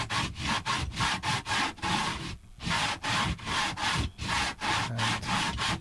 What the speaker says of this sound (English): sanding off the fiberglass, the excess fiberglass cloth and mat on the inside here